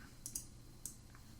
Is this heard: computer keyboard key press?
yes